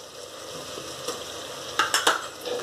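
Tomato, ginger and garlic masala for a sankara fish curry stirred in a clay pot, steady sizzling frying under a few sharp scraping strokes of the spoon near the end, close and alone.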